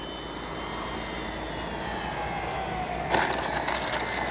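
The engines of a radio-controlled B-25J warbird model airplane whine steadily at a distance during a landing approach with flaps down, a constant hum that swells slightly near the end as the throttle changes.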